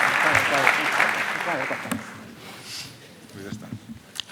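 Audience applause at a historical-novel week event in Pozuelo de Alarcón, a broad wash of clapping that fills the opening seconds and then thins and fades, with a few scattered claps near the end.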